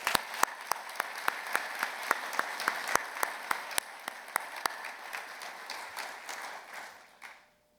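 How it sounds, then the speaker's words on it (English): An audience at a fire trainee graduation ceremony applauds in a steady round of clapping, individual claps standing out sharply, before it fades away at the end. "Let's give Chief Ewell and all of her instructors a big round of applause."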